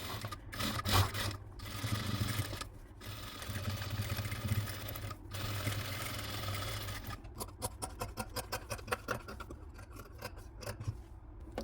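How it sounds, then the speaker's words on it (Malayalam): A sewing machine stitches a readymade neck patch onto a garment, humming continuously at close range before breaking into a quick rhythmic ticking, mixed with fabric rustle and handling. "ഇനി നമുക്കിത് സ്റ്റിച്ച് ചെയ്തെടുക്കാം"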